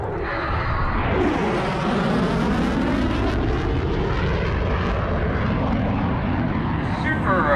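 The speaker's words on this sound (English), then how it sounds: "Super Hornet high-speed pass." Boeing F/A-18 Super Hornet jet roaring past in a high-speed pass at the Camarillo Air Show, a loud sustained rush with a sweeping pitch shift, heard over crowd and commentary.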